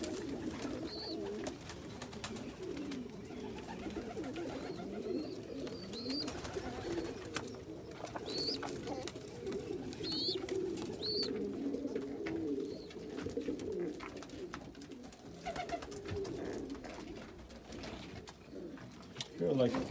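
Pigeons coo continuously nearby, a low, murmuring warble that rises and falls steadily throughout, with occasional faint higher chirps.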